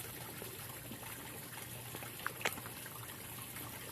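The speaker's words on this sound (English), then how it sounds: "And so here is the water sound" Water trickles in a fern garden as a faint, continuous outdoor burble, quiet and steady, with a couple of brief small clicks midway.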